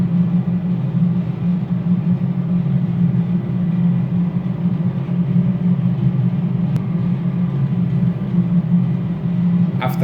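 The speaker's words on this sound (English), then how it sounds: "the 3 packs will come to the on position, and you can hear air flowing into the cockpit" Air from the packs flows into the cockpit of a PMDG MD-11 in a home cockpit flight simulator, a steady loud droning hum and rush with no change throughout.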